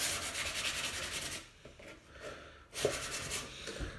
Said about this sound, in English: I've just done a bit of sanding on here and I'm still doing a bit more